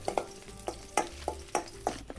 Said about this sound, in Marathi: आता तेल टाकून घेते. आता लसूण टाकून घेते. आता हिरव्या मिरच्या टाकून घेते.